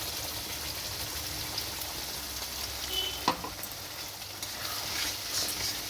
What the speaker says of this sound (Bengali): আমি মশলা পেস্টটা ঢেলে দিচ্ছি